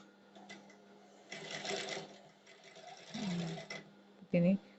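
A sewing machine stitches a shirt collar in short, close bursts of rapid mechanical chatter separated by pauses, with a quiet voice speaking softly between runs.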